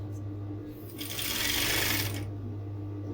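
Sewing machine stitching fabric in a short steady whir of about a second, close and moderately loud over a low background hum.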